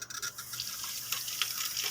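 Water is poured into a pot for cooking pata, a soft, steady splashing and trickling that stays fairly quiet for a couple of seconds.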